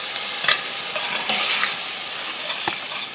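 Jarred garlic stirred as it fries in a soup pot, a steady sizzle and hiss broken by a few sharp scrapes of the spoon against the pot, close and alone.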